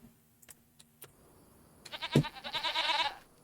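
Goats on a dairy farm in Farming Simulator 25 give a run of bleats rising from faint to loud, following a few scattered clicks.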